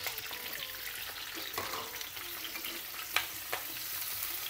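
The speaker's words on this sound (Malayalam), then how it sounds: "ഇതിലോട്ട് ഈ പനീർ ഇട്ട് കൊടുക്കാം." Paneer cubes frying in oil with onion and capsicum, stirred in a pan: a soft, continuous sizzle broken by intermittent scraping and clinks of the spoon against the pan.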